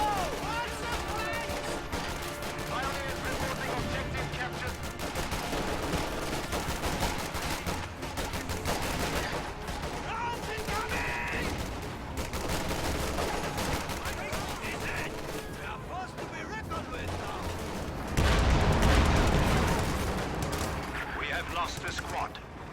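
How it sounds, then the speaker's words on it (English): Rapid machine-gun bursts from Sherman tanks in a World War II strategy game crackle steadily through a dense battle mix, with other gunfire and a deeper blast near the end, while a commentator talks over the action. "That burst from those Shermans takes out another Grenadier squad"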